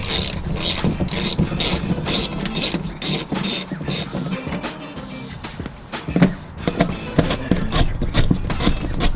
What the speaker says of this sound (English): By using a 10mm socket, you can remove 3 screws from the cover.